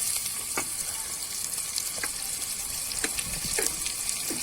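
Chopped onions fry in heated oil for a vegetable kurma, giving a steady soft sizzle with occasional faint clicks and stirs, fairly quiet and close, with no talk.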